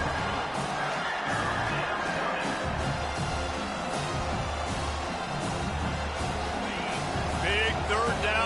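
Stadium crowd noise from an NCAA 25 college football video game, a steady broad roar building behind the defense on a big third down, running continuously under game commentary.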